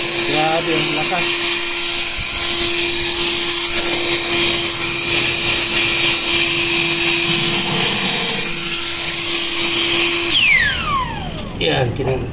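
A Euro Griffin 180i turbo jet mini blower with a 2K-watt motor and a 15-cell lithium battery runs close up as a loud, steady, high-pitched jet whine for about ten seconds, then quickly spins down.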